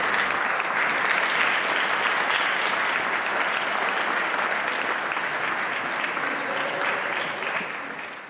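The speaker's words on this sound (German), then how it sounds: "Aber mit richtigem Publikum und richtigem Applaus." Live audience applauding in a huge industrial hall in Dortmund, a dense, sustained roar of clapping that stays full for several seconds before tapering off slightly at the end.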